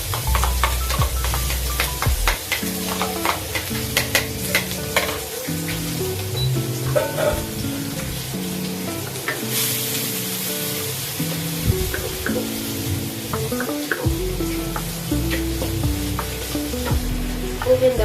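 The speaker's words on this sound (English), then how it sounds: "Stir fry the ginger with the garlic." Ginger and garlic stir-fried in a pan, a continuous close sizzle with repeated scraping and tossing strokes of the spatula throughout, fairly loud and with no one talking.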